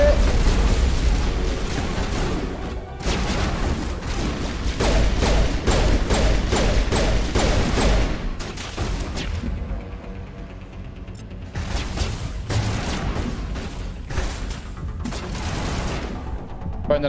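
Rapid automatic gunfire and booming impacts during a firefight in Mass Effect 1 Legendary Edition, dense and loud nearly throughout, with dense bursts pausing briefly around the middle before resuming.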